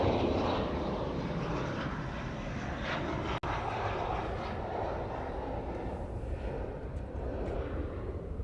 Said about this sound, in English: It's the 717 Lilo and Stitch plane.